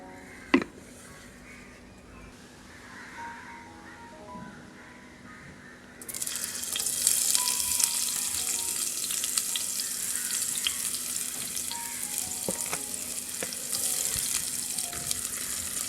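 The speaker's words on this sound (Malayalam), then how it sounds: "ഉള്ളി നന്നായി മൊരിയട്ടെ" Sliced onions fry in coconut oil in a pan for a Kerala beef masala dish, first quietly, then jumping to a loud, steady, close sizzle after a few seconds, with occasional stirring clicks.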